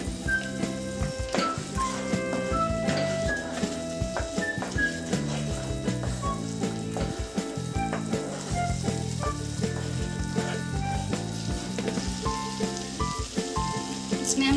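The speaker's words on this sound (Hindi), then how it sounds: "अब हम इसमें डालेंगे पेस्ट, जो प्याज का हमने पेस्ट तैयार किया था, प्याज, टमाटर" Onion, tomato and roasted spice paste for dum aloo sizzles and fries steadily in a pan, a continuous crackling hiss with stirring clinks, while background music plays throughout.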